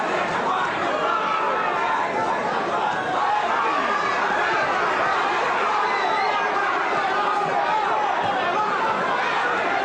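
A huge crowd of boxing fans, many from Brazil, fills an arena with a steady, dense roar of chatter and cheering that stays constant and loud throughout, with a commentator's voice faintly woven in.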